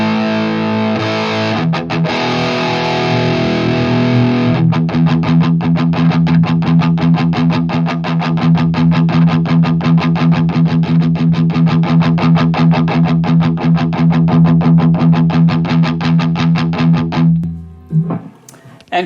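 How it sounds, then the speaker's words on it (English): A Schecter Banshee electric guitar plays through a Marshall DSL 100 H head and Marshall 1960 cabinet with Vintage 30 speakers, miked with an SM57: loud, heavily distorted chugging riffs with fast palm-muted rhythm, ending in a ringing chord. "currently I'm playing through the Marshall 1960 with vintage 30 speakers, mic with an SM57"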